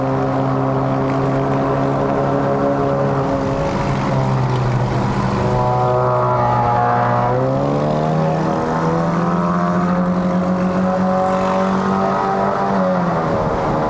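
Tuned Honda City 1.5L GN5 hatchback with a CVT in manual mode and modified exhaust, climbing toward Genting in Malaysia; a loud, steady engine drone holds its pitch, then drops and shifts partway through as it changes gear, with no voices.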